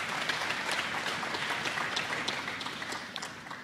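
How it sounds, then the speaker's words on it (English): Applause at a basketball signing ceremony: a room of people clap steadily at moderate volume, the sound easing slightly toward the end. "I want to give her a round of applause for that"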